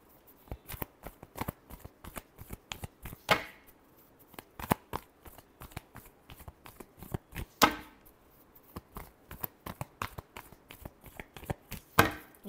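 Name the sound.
shuffling tarot cards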